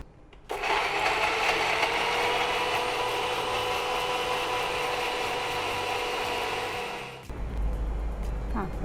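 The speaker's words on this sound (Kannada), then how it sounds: "ಇಷ್ಟನ್ನು ಈಗ ನೈಸಲ್ಲಿ ಗ್ರೈಂಡಿಂಗ್ ಮಾಡಲಿಕ್ಕೆ" A mixer grinder runs steadily, finely grinding a bhindi masala paste with raw mustard seeds, a loud whirring drone that starts abruptly, holds for about seven seconds, then cuts off.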